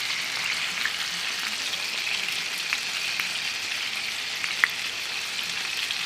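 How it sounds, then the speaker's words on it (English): Salisbury steak patties frying in a cast iron pan give a steady, close grease sizzle with scattered crisp pops, no voices over it. "I just wanted to fry them in this cast iron"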